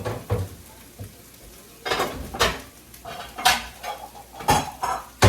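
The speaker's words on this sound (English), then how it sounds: "Let me go ahead and get out a bowl." A bowl is taken out in a home kitchen while preparing meatloaf, making a string of sharp clinks and knocks of dishware spread across a few seconds, fairly close and with no talk.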